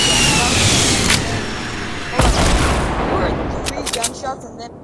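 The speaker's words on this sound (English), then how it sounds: "three gunshots and then stopped." Loud gunfire crackles through a dense, noisy Fortnite battle scene, with a sharp burst near the middle and scattered shots trailing off.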